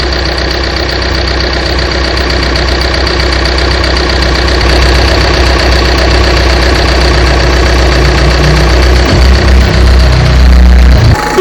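A used car's engine, which has an oil leak, runs at a steady idle, loud and close, with a constant low rumble throughout and no speech.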